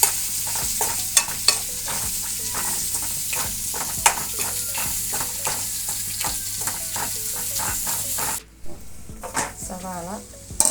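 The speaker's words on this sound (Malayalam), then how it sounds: "വഴറ്റി വരാൻ അല്പം ഉപ്പിട്ട് കൊടുക്കും. ഇട്ടാൽ വേഗം അത് വഴറ്റിയെടുക്കാം." Onions sautéing with salt in a pan for prawn roast, a loud, close sizzle with regular spatula scrapes that stops abruptly near the end, followed by faint scattered sounds.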